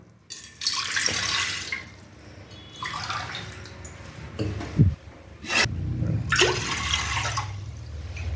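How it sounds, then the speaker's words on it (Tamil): Water pours into a pot in several bursts while finger millet (ragi) kali is being made, splashing and gurgling close by with short pauses between pours, and no one speaking. "இது பாதி தண்ணி ஊற்றி கலந்துக்கோணும்"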